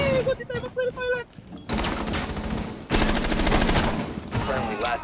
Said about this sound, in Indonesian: Wih, gua ditembak dari toilet.